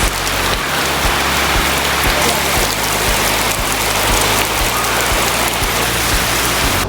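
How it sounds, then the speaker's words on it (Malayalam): Rain falls steadily and loudly onto surfaces in the evening, a dense continuous patter with a low hum beneath it. "ഫൈനലി മഴ പെയ്തു ഗൈസ്"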